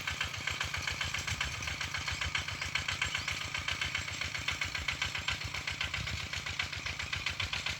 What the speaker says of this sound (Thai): มีรถไถหน่อยก็สบาย นั่งวะ นั่งขับไปเลยคุณ